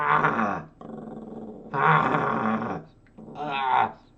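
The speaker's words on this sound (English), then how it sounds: "You're gonna growl at me, then you're gonna lick me after, Luna?" A small dog growls close by in three loud, rumbling bursts separated by short pauses, with no talk over them.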